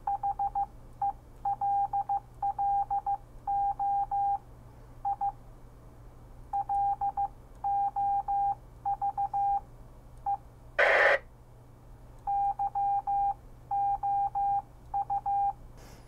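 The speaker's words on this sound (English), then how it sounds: "you can record messages over Morse code" Short electronic beeps from the TinyMidi app play Morse code in rhythmic groups of dots and dashes, with a brief louder burst partway through, over a faint steady hum.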